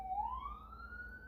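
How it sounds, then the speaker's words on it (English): An emergency siren sounds outside, heard faintly from a distance as a single steady tone that rises slowly in pitch over a low background rumble. "there's a siren."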